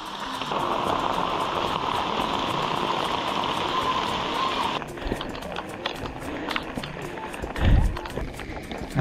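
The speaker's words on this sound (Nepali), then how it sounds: "एकदमै झमझम पानी परिरहेको छ" Heavy rain on a mountain trek in Nepal pours as a dense, steady hiss for several seconds, then thins into scattered drops and footsteps with a close thump near the end.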